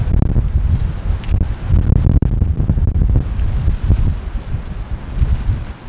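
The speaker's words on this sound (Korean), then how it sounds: "바람은 엄청납니다" A strong, gusting wind buffets the microphone on a seaside bridge during heavy rain. It makes a loud, continuous rumble and roar that lasts the whole time, with no voices.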